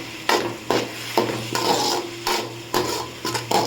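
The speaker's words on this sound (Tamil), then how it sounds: "இப்போ நம்ம தக்காளி சேர்த்துக்கலாம் சேர்த்து நல்லா வதக்கிக்கலாம்" Tomatoes and onions sauté in a pan for egg Maggi, with a soft sizzle under repeated scraping strokes of a spoon, close and fairly loud in a steady rhythm.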